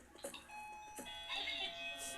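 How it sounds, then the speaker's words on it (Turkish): A doorbell rings at home with a faint, sustained chime that rises once more toward the end, while people talk quietly over it. "Arkadaşlar zil çaldı."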